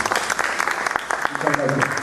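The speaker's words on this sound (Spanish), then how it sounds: "le ofrecemos un fuerte aplauso" Audience applause at an evening medical history lecture, a dense patter of clapping with a voice speaking partway through it.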